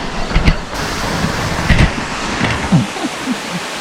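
Water rushes and surges steadily outdoors with a broad, noisy wash, close and loud, mixed with bumps and gusty rumbles but no clear talk.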